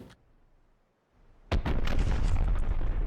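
A cram cannon shell in From the Depths slams into its target after a near-silent lull, a sudden heavy blast that keeps roaring and rumbling with crackling debris for over a second.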